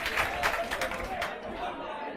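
A classroom of students gives a burst of clapping and applause after a teacher's Hindi lecture, a dense patter of many hands at close range that fades toward the end.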